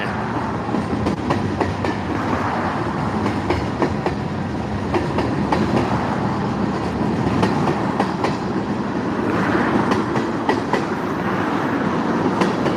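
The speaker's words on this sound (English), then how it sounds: "That train acts like it's slowing down. Hey, it's still coming though. It's a long train." A long train rolls steadily past on the rails, a continuous rumble with rhythmic clacking of wheels over joints, loud and close throughout.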